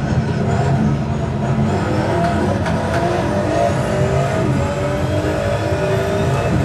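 Powerful race car engines scream continuously in the GTR Evolution racing game on the Nordschleife, a dense, loud wail of revving motors with shifting pitch and no pauses throughout.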